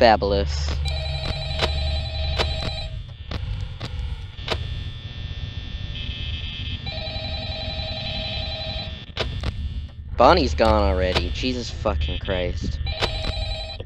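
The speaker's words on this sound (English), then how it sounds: "yeah, that's the phone call." A phone rings repeatedly in the security office of Five Nights at Freddy's, its electronic tones repeating in bursts across the clip while someone talks over it and music plays.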